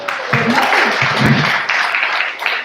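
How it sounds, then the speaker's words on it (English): Applause from an audience at a veterinary student symposium general assembly, with steady clapping and cheering that fills the room alongside crowd voices. "You can clap."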